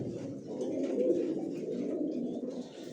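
Racer pigeons cooing in a loft, a continuous low, throaty burbling from several birds close by, with no talking.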